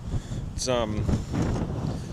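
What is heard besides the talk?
strong gale-force wind gusting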